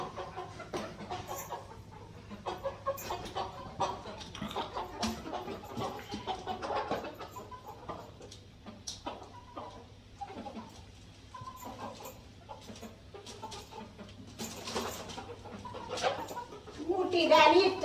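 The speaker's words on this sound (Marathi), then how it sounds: "तर 17 पक्षी आहेत, त्यामध्ये 9 कोंबडे आहेत आणि 8 कोंबड्या आहेत" A flock of farmyard chickens and roosters clucks and calls intermittently at moderate distance, mixed with rustling, shuffling and occasional voices, growing busier and louder toward the end.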